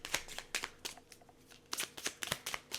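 Tarot cards being shuffled by hand in repeated quick riffling bursts, soft and close, with short pauses between bursts and no talking.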